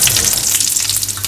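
Curry leaves and fenugreek seeds sizzle steadily in hot oil as a tempering for beetroot pulissery, a loud, continuous close crackle with no voices.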